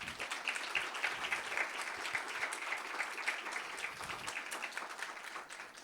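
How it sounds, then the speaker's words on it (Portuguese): Audience applause for the authors at a poetry book event, a dense, steady wash of many hands clapping that holds evenly for about six seconds at moderate level, with no talk. "Eu gostaria de pedir uma salva de palmas para as autoras."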